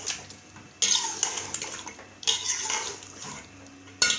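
Chicken karahi with crushed green chillies and salt stirred in a pan: a spoon scrapes and clinks against the metal in repeated rounds, with a soft sizzle underneath, close up and with no talk.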